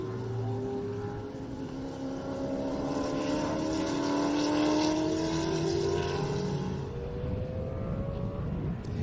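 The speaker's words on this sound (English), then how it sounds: "5-litre flat plane crank engine sounds totally different to all the other supercars" A Mercedes C63 supercar with a 5-litre flat-plane-crank engine races at the Phillip Island circuit during a classic car event. Its tone climbs continuously as it accelerates, a sustained, fairly distant roar lasting several seconds.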